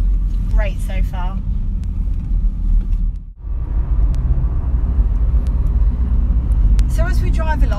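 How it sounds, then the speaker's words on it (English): An 1980s Citroen CX Estate Safari driving along country roads, a steady low engine and road rumble heard from inside the car, with someone talking over it at the start and end. "So as we drive along, we're going for a nice little amble down these country roads."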